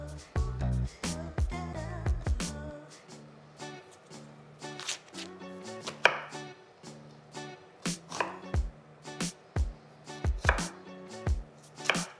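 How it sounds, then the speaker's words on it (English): Rapid, sharp knife chops strike a cutting board while onions are cut, in uneven bursts, close and crisp, with short pauses between flurries. "I'm gonna cut up some of these onions."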